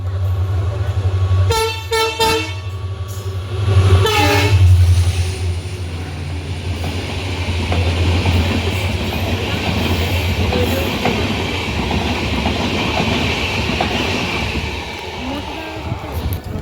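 A late passenger train pulls into Ambasa station, sounding two loud horn blasts in the first five seconds before a steady rumble and faint wheel clatter carry on to the end.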